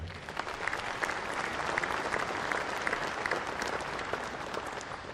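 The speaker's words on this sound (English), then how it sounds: "let's give all of them a big round of applause today" Audience applause at an Arkansas economic development and job creation event honoring local and state officials, a steady dense wash of many hands clapping at even loudness for the whole stretch, with no talk over it.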